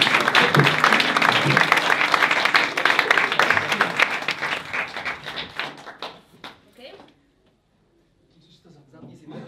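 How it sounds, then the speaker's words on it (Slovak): A stand-up comedy audience breaks into loud, dense applause to welcome a first-time performer, the clapping thinning out and fading to silence before a few quiet sounds return. "abyste ji přivítali obrovským potleskem"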